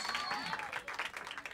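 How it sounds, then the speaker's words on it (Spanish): Audience applause at the opening of a 1995 dance festival, a dense wash of clapping from a crowd that fills the short moment, fairly faint and distant. "Aplauso fuerte para ellos."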